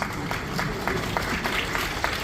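An audience at a stage event breaks into applause, a dense patter of many hands clapping at moderate distance for a couple of seconds.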